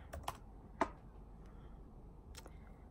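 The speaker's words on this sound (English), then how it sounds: "I think I was just typing too quickly" Quick bursts of typing on a computer keyboard, a few sharp close clicks clustered at the start and again near the end, with quiet gaps between and no talk.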